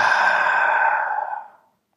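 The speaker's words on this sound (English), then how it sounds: "exhale out your mouth." A long exhale pushed out through the mouth during a guided breathing and movement practice, a soft breathy whoosh that holds steady and then fades out over about a second and a half, heard alone with no talking.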